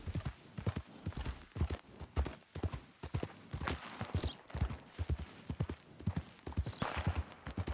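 Horse hooves clip-clop in a steady, even rhythm while riding in Red Dead Redemption 2, loud and close, with occasional faint whinnies and no talk.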